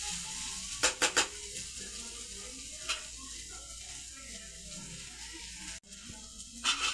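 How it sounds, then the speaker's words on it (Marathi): Bitter gourd vegetable cooking in a pan, a soft steady sizzle with a few light clinks of a utensil against the pan, fairly quiet throughout. "आणि ही भाजी आणखी 2 मिनिट अशी शिजू द्यायची आहे."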